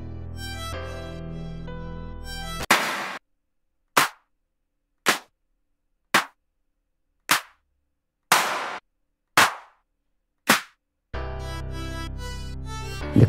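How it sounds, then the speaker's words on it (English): Clap samples from an EDM, trance and house drum kit play one after another, about eight sharp, crisp claps spaced roughly a second apart, each cut off cleanly in silence, with backing music before and after. "starting with the claps."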